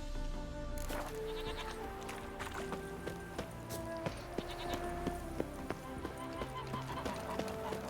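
Horse hooves clip-clop at a steady trot in The Witcher video game, set under constant background music and game sounds, with a voice briefly heard over the hoofbeats.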